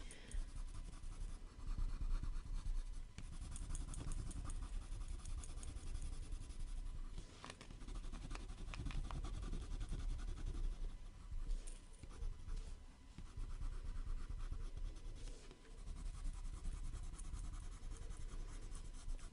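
Continuous scratchy strokes of colored pencil on paper, close and steady, with rhythmic back-and-forth shading and brief pauses.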